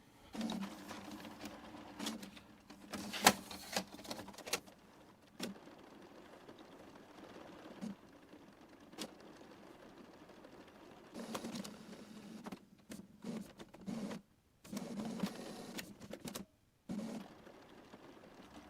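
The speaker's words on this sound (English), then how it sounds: "Yeah, just print nozzle pattern." Canon inkjet printer running a nozzle test pattern, giving a steady low mechanical whir with repeated clicks and short bursts of carriage and feed motion, close by and fairly quiet, with brief pauses between passes.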